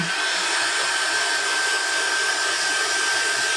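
A hair dryer blowing on wet acrylic paint on a Santa bust, a loud steady whooshing roar with a faint whine running unbroken and close throughout, no voices.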